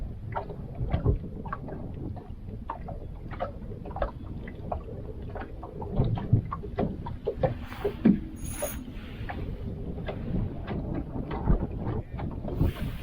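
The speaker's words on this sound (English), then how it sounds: "Seems like the wind's trying to pick back up." Steady outdoor wind noise buffets the microphone during a winter crappie fishing trip on open water, a continuous low rumble with scattered clicks and knocks, no talking.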